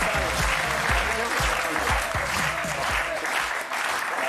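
A French television studio audience applauds a guest, a Communist Party candidate in the European elections, with steady dense clapping that runs throughout over a low musical bed.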